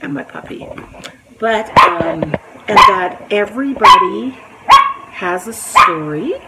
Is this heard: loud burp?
no